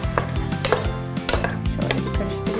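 Finely diced tomatoes tipped onto peppers in a cooking pan, a few sharp clattering knocks and scrapes against the pan with soft wet plops, close and fairly loud, no talking.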